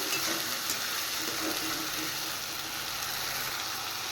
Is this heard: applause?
no